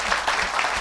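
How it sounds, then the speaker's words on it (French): A church congregation claps for the Lord in a brief, dense burst of applause from many hands. "put your hands together for the Lord"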